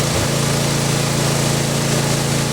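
A lawn mower engine runs at a loud, steady drone, its pitch briefly shifting at the start before holding constant.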